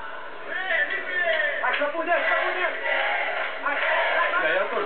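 A fight crowd roars and chants for Felipe Micheletti during a WGP kickboxing bout against Guto Inocente, dense continuous cheering with shouting voices rising and falling throughout, heard in a muffled broadcast quality.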